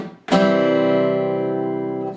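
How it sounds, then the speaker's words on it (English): A single acoustic guitar strum rings out sustained for about two seconds, played alone, as part of a song part using muted percussive downstrokes. "that's going to be a muted sound, this percussion sound."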